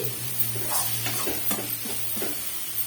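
Ingredients for idli upma sautéing in a pan: a constant soft sizzle with scattered stirring scrapes of a spoon, close and moderately quiet.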